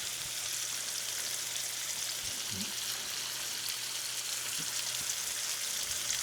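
Pork loin cube steak frying in a very hot pan, giving off a steady, soft sizzle with a faint crackle that holds evenly the whole time and has no talking over it.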